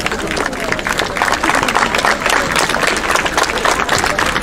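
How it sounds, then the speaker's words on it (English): Graduates at a school graduation ceremony applauding their teachers, dense continuous clapping from a large crowd, loud and close, with a murmur of voices mixed in. "join me in giving all the teachers a round of applause"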